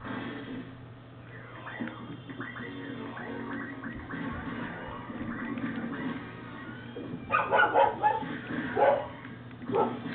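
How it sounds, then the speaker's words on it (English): A pet dog barking and yipping in the background of a room, faint at first then a cluster of sharper, louder barks near the end, with some whimpering. "Sorry about my dog barking."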